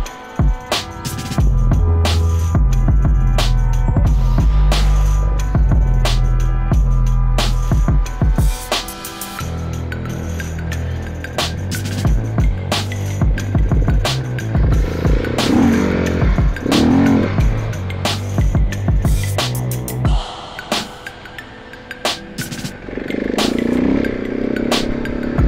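Trail motorcycles ride a mountain track on Mount Othrys, engines revving and dropping through gear changes, loud and close, with rattling and clattering over rough ground as the bikes move along.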